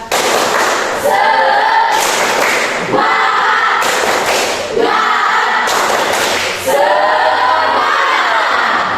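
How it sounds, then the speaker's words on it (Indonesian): A class of school students performs a rhythmic spirit clap, loud repeated bursts of group clapping and thumps with chanted voices, repeating in cycles throughout. "Tepuk semangat."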